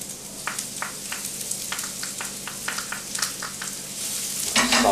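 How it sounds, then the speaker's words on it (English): Minced garlic and shallots sizzle in hot olive oil in a preheated pan, a steady close frying hiss broken by repeated soft scraping stir strokes, growing louder near the end. "saute these for a couple minutes"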